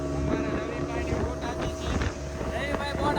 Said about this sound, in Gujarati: ભાઈ અમારી બોટ રેડી થઈ ગઈ છે, શરૂ થઈ ગઈ છે.